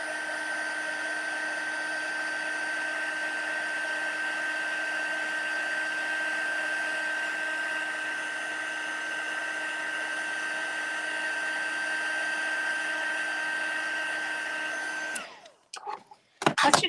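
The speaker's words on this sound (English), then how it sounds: "Once you've used your heat gun" A heat tool blows steadily at close range for heat embossing in card stamping, a loud even whirring hiss that runs unbroken for about fifteen seconds, then cuts off and leaves a few scattered handling clatters.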